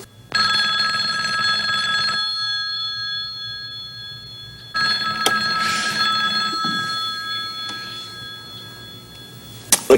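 An old 1970s telephone bell rings twice in long, loud, jangling bursts separated by a short pause, close by, with faint rustling and movement between and after the rings.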